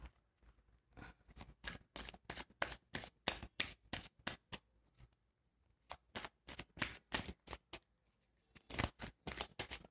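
Tarot cards being shuffled for a love reading, heard as repeated crisp riffling bursts in quick rhythmic runs, with two short pauses between sets, close and clear with no talk.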